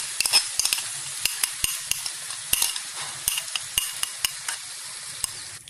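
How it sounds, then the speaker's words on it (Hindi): Yogurt being stirred into minced meat keema frying in a pan over low heat, a constant sizzle broken by sharp, regular spoon scrapes and taps against the pan, close up with no voices. "दही को हल्की आंच पर मैं मिक्स कर रही हूँ।"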